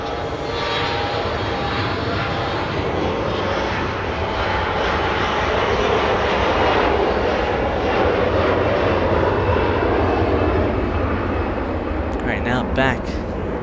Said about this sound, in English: We're going to have a departure right now on runway 24 left.